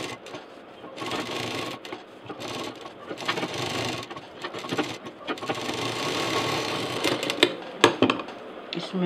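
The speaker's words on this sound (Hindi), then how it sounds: "इसको हम यहाँ पर इस तरह से लगा के और सिल देंगे" A domestic sewing machine stitches fabric for a toaster cover. It runs close and steady in long, busy bursts with a few short pauses and changes of pace.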